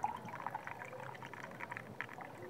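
Water poured from one small cup into another while fingers hold back pieces of eggshell, a faint close trickling and splashing stream.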